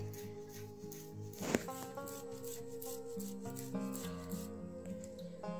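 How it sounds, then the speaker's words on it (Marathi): Peeled boiled potatoes grated by hand in a kitchen, giving a faint, steady rubbing rasp under a continuous background hum with tonal noise and one sharp click. "आता हे जे बटाटे आहेत हे आपल्याला छान असे किसून घ्यायचे आहेत"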